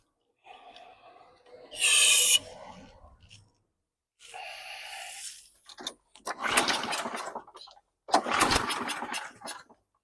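A 2016 Toro Recycler Smart Stow lawn mower with a fuel delivery fault, sprayed with carb cleaner, cranks and sputters in several short bursts, the engine catching briefly and dying each time, loud and close.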